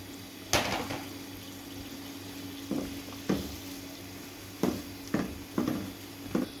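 Chicken pieces browning in masala in a hot pan give a steady low sizzle, broken by several sharp spattering pops and clatters spaced a second or so apart.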